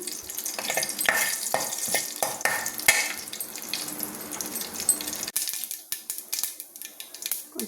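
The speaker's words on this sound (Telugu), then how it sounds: "కొంచెం తాళింపు గింజలు వేసి పోపు పెట్టుకుందాము" Tempering seeds crackle and sizzle in hot oil for an ivy gourd (donda) chutney. The sizzle comes with scraping stirs and small taps at moderate loudness, then quiets after a sharp knock.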